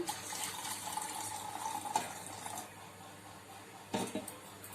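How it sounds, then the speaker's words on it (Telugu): Milk pours into a tea pan in a home kitchen, a steady liquid stream running for a few seconds, then a brief pause and a short final splash, close and moderately quiet with no talking. "ఇప్పుడు నేను కొన్ని పాలు యాడ్ చేస్తాను."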